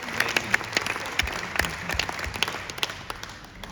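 An audience applauds in a steady, moderately distant round of clapping with a few sharper individual claps standing out, tapering slightly toward the end.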